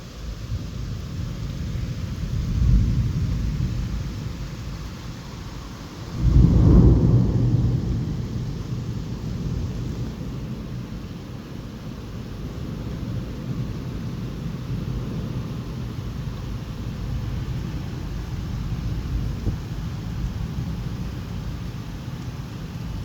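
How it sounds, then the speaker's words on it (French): Violent thunderstorm over Bordeaux, with deep rolling thunder booming loudly partway through over a constant hiss of heavy rain, then a low continuing rumble with no speech. "c'est le plus violent orage de toute ma vie."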